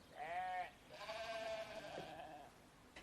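Sheep bleat around a rolling liquid feed lick ball: two clear, wavering bleats, one short and one long and drawn out, close and fairly loud over a low farmyard hush.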